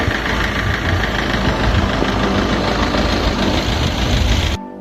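Motorcycle engines of bike riders passing through dense forest near the border in Kupwara, Kashmir, a loud continuous rumbling idle and throb close by that cuts off abruptly at the end.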